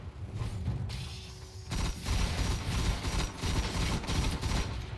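Shotgun blasts and other weapon fire crackle through a Destiny Iron Banner Control match on the Cauldron map, a dense, continuous barrage of loud shots with a heavier burst partway through and no voices.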